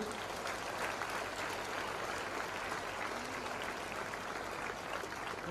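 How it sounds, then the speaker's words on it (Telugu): An audience claps continuously at a public gathering attended by former minister Harish Rao. The applause is a steady, even crackle that holds for several seconds without pause. "క్లాప్స్ కొట్టండి"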